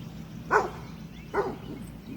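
A dog barks twice, about a second apart, at moderate distance near a beehive being checked, with a soft background hum between the barks.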